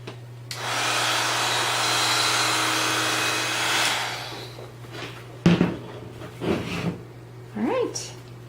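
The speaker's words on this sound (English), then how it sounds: "Take your heat gun." A heat gun blows hot air over gold embossing powder on paper, a steady loud whooshing roar for several seconds that then stops, followed by a few knocks and handling noises.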